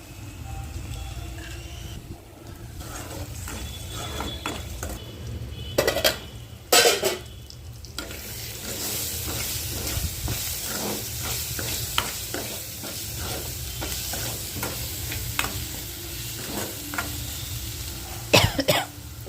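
Egg frying in a pan for pudina egg rice, a steady sizzle under repeated stirring and scraping of a utensil against the pan, with a few sharp clanks and a cough.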